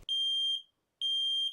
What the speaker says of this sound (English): Smoke detectors.